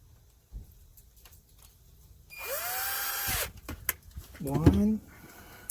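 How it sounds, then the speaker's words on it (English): A power driver briefly whirs as screws go back into the interior dome light of a 2008 GMC Acadia, two short close bursts with small clicks between them. "Put the screws back in."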